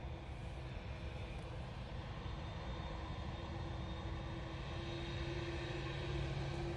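A TUI airliner departing Manchester Airport produces a faint, steady engine hum and rumble with a sustained low tone, rising slightly toward the end.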